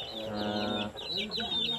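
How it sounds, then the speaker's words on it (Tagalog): Chickens cluck and chirp nearby, several birds calling over each other in a busy farmyard chorus, with a low animal call underneath. "Ito po yung mga manok nyo."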